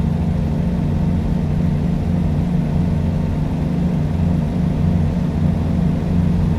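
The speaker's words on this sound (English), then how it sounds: "Let my retarder and my transmission do some of the work there." A truck engine drones with a low, steady rumble as the retarder brakes in American Truck Simulator, holding loud and even throughout with no talk.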